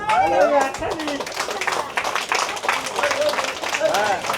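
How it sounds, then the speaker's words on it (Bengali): Audience clapping greets a guest at a Jagaddhatri Puja clothing-donation gathering: scattered, steady applause runs throughout under a speaking voice. "করতালিতে অভ্যর্থনা জানান"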